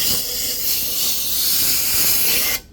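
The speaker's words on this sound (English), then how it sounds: "Alright, then I'm gonna blow some air" Compressed air blasting out dirty, oily parts of a Yamaha HPDI 250HP outboard boat engine, a loud, steady, close hiss for more than two seconds that cuts off abruptly.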